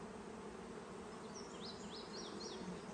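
Honeybees, including drones, buzz steadily around a hive being set up from packages, a dense continuous hum with no voices.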